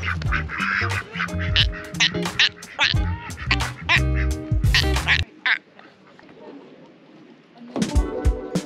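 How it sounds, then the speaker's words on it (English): Ducks quack loudly and close by in a dense, overlapping chorus of repeated calls that drops away for a few seconds, then returns briefly at the end. "He just loves ducks."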